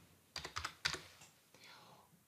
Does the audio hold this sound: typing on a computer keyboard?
yes